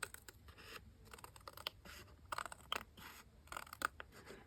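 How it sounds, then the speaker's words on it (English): Scissors trimming paper across the bottom of a journal ephemera piece, a steady series of close, crisp snips and scraping cuts, quiet and with no voices. "So I'm going to just kind of trim across the bottom here."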